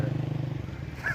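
A motorcycle engine idles with a quick regular throb that loosens and fades partway through, then a brief clunk as the rider shifts gear.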